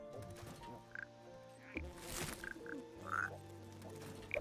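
Croaking toad from the video game TOHU, a few short separate croaks over low, steady game ambience and faint background music, with no voice.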